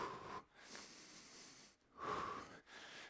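Workout breathing in through the nose and out through the mouth, three long airy breaths separated by short pauses, close and hissy with no speech.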